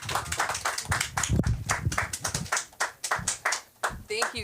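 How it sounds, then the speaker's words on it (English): An audience at a comedy show claps and cheers for a comedian, a dense, steady burst of applause that tapers slightly, with voices calling out over it. "Let's give it up for Samantha Linderman."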